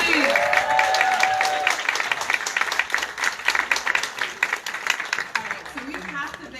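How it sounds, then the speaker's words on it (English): An audience at an African American empowerment luncheon applauds the panel, with sustained dense clapping that gradually thins out, along with voices from the crowd. "Give a big round of applause for the panel, please."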